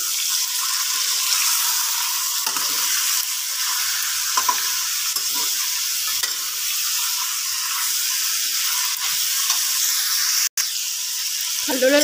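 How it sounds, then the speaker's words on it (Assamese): Goat meat (mutton) fries in a pan with a loud, constant sizzle, close up, broken by a few clunks and scrapes of stirring. "ভালদৰে ভাজি ল'ম মই"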